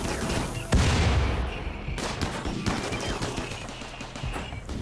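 Turrets in RimWorld open fire on attackers, a rapid clatter of shots with a sharp burst near the start and repeated volleys that keep going, loud and with no talk over them.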